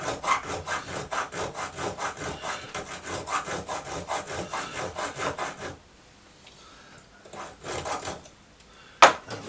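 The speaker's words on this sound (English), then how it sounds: "You might want also to invest in one of these, I suppose they're hobby saws. It's a finer cut" A fine-toothed hobby saw cuts in quick, steady back-and-forth strokes for several seconds, then stops, leaving near-quiet with a few faint handling sounds and one sharp knock at the end.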